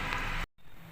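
Water poured into a kadai while cooking a Bengali vegetable chhechki gives a brief, loud, broadband rushing splash that cuts out abruptly, then resumes more softly.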